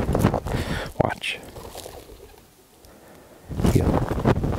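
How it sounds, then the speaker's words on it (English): Pigeons flap their wings in short, flurried bursts during an outdoor gun dog training session, with a quieter gap in between and soft voices nearby. "Distraction of the birds flying."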